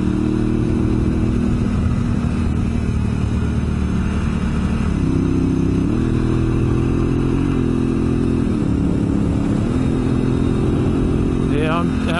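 A Honda Africa Twin DCT motorcycle engine drones loud and close throughout, its pitch stepping up and down as revs rise and gears shift, with heavy wind rush over it.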